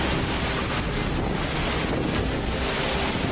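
Loud, roaring wind buffets the microphone with a constant heavy rush, like a strong storm outdoors, with high winds and rain at a train station.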